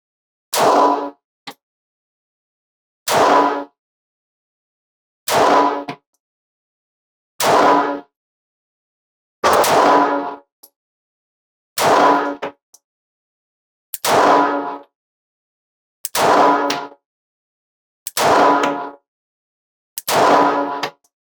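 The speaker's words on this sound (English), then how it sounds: "10 shots, left hand challenge target, Fiocchi 95 grain full metal jacket." A Springfield Hellcat .380 ACP pistol fires ten Fiocchi 95 grain full metal jacket rounds at a steady pace, about two seconds apart. Each shot is a loud, sharp crack that quickly decays into near silence.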